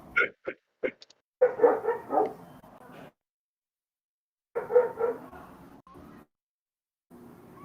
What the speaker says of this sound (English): What the heck is wrong with that dog?